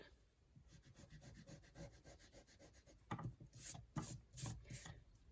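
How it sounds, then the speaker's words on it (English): An eraser rubbing out a pencil line on drawing paper, a soft, quiet scrubbing in rapid back-and-forth strokes that grows a little stronger toward the end. "So we're going to rub this line out to those points that I've got there."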